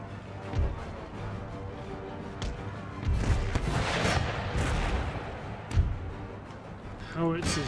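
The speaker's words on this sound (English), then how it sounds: "Howitzers drop shells on the von Schilcher Hussars" Howitzer artillery fire in Empire: Total War shelling hussars, a series of booming shots and bursts over continuous battle din, loud and fairly close, with a sharper crash near the end.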